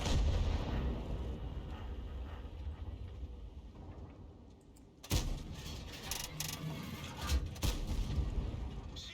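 An AMX 50B tank's heavy cannon blast in a video game cuts through a constant low rumble, followed a couple of seconds later by another sharp boom.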